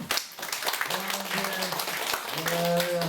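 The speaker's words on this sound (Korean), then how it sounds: "우리 박수 한번 쳐주세요" An audience at a lecture applauds a volunteer, with dense clapping running throughout the short stretch while voices murmur and talk over it.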